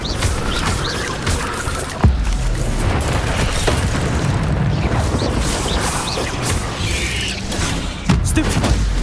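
Spell blasts and booming impacts in the video game Hogwarts Legacy, dense loud rumbling combat with sharp bursts near the two- and eight-second marks over a continuous roar.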